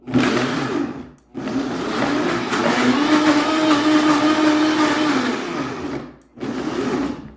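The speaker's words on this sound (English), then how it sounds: "now I'm going to have the blender chop my zucchini" A blender chopping zucchini runs in three pulses, a short burst, a long steady whirring stretch, then another brief burst, with quick silent gaps between them.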